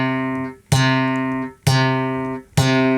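Bass guitar playing long sustained legato notes, three plucked tones each ringing out fully before the next, clear and alone.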